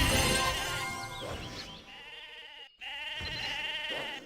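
Sheep bleat repeatedly in the video game Mabinogi while being sheared, several loud, close calls in succession with a short break near the middle.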